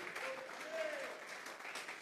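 A church congregation claps during a Spanish-language sermon, a faint, diffuse patter of many hands with a voice speaking over it.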